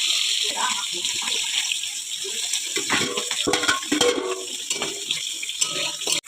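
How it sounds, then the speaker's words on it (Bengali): Water poured into a pot of pumpkin curry with lentil dumplings while it cooks, giving a steady splashing, sizzling wash that runs throughout at close range, with clinks of a utensil against the pan. "এখন আমি এতে একটু জল দিয়ে দেবো"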